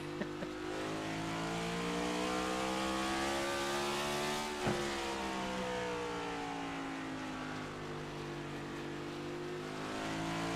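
Race car accelerating hard at North Wilkesboro, a loud continuous engine roar whose pitch climbs steadily without shifting, with a brief thump midway and other engine noise behind it, no voices.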